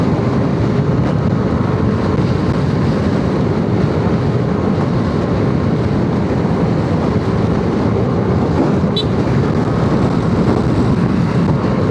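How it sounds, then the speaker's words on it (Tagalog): Strong wind roars steadily and loudly past a riding motorcycle on a Sunday afternoon ride, a dense, continuous rumbling buffet with no pauses and no talk. "Grabe yung hangin. May pasok yung hangin mo."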